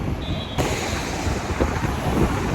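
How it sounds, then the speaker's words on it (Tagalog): Strong wind blowing outdoors, buffeting the microphone with a loud, steady, gusty rumble that fills the whole stretch, with no voices. "masyadong mahangin"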